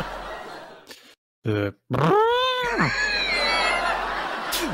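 A person's voice trumpets and honks in an exaggerated, elephant-like imitation, with rising and falling harmonic blasts, amid noisy background chatter.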